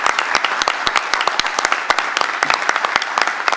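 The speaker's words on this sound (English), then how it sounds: "So let's give them a round of applause" Applause for first responders at a storm recovery press event, a smaller group clapping with distinct, uneven individual hand claps standing out in a sparse, lively rhythm.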